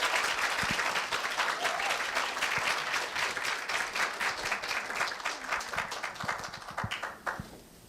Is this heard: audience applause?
yes